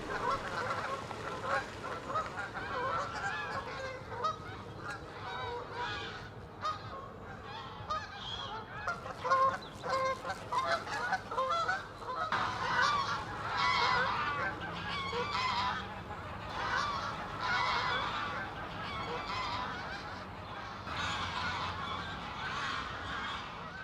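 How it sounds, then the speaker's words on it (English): A large flock of greylag and Canada geese honks continuously, many overlapping calls near and far forming a dense, noisy chorus throughout. "A load of greylag geese there, waiting for their orders to take off."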